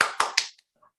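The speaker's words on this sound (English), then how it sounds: "He claps his hands" Three sharp hand claps in quick succession inside a kitchen, close and crisp, followed by a brief faint tail and near silence.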